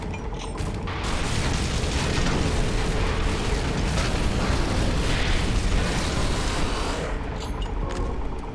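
Plasma gun fire and explosions in the video game Doom 3 form a dense, continuous roar of blasts and mechanical noise lasting several seconds, with no talking.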